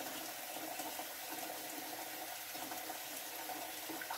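Steady stream of tap water running into a pot being filled with about three quarts for a pressure canner, a continuous close hiss and splash with no talking.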